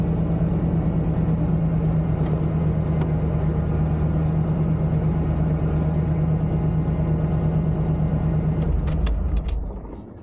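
An OBS Chevy truck engine runs at a steady, loud idle close by, with a low even drone throughout. It cuts off near the end, leaving a few faint clicks.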